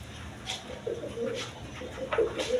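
Mondain pigeons, including a hen sitting on eggs in a loft, give soft low coos that recur every second or so against a steady faint background hiss.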